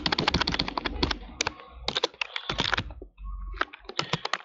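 Typing a file name on a computer keyboard, a fast run of close, crisp key clicks in irregular bursts with a short pause partway through.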